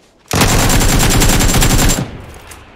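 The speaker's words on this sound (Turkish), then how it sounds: "Biraz sonra çatışma sesini duyarsın. Duydun mu?" Automatic gunfire in a shooter video game bursts out loud and close as one rapid, continuous volley of shots lasting under two seconds, then stops abruptly into quiet.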